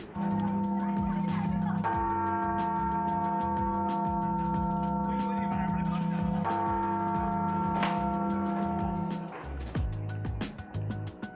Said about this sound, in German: Und auch mit einem Glockenschlag.